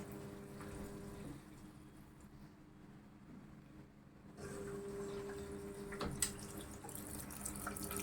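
Water runs from a tap into a washing machine, a quiet, steady gush that grows fuller partway through, with a few faint knocks.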